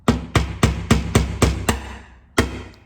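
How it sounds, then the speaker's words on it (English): Seven quick sharp hammer blows knocking small staples out of a hinge strike in a steady rhythm, then a pause and one final blow, close and clear. "They're little staples, so I'll just bang them out with the hammer"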